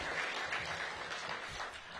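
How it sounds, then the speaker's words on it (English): An audience in Ward 8, Washington, D.C., applauds at a ribbon cutting for a high school's new permanent building. The clapping is a dense, continuous wash for about two seconds, and no one speaks over it. "Give it a round of applause right here in Ward 8."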